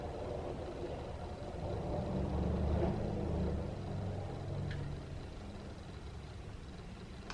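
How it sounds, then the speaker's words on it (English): A vehicle driving over rocks, heard as a steady low rumble and crunch that swells in the middle and then eases off, somewhat distant, with no talking. "sounds like someone's driving through the rocks"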